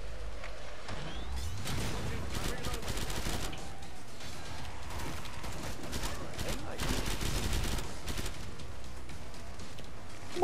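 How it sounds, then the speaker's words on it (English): MP7 submachine gun firing in the video game Killing Floor 2, with rapid sustained automatic bursts and other gunfire mixed in. Voices talk over the shooting throughout. "MP7. Sounds like a miniature minigun. Like a pocket minigun."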